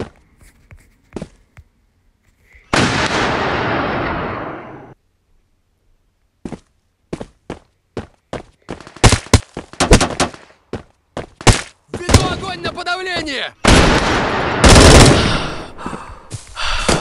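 An AK-12 fires in a video game in sharp, loud bursts and rapid clusters of shots separated by short pauses. A longer hiss of noise appears early and another near the end.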